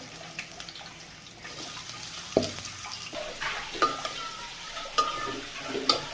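Round slices of bitter gourd frying in hot oil with a little turmeric, a continuous gentle sizzle broken by occasional spatula scrapes and clinks against the pan.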